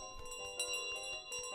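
A bright bell rings repeatedly in Untitled Goose Game, with clear ringing tones and a few struck accents over about a second and a half, with no talking.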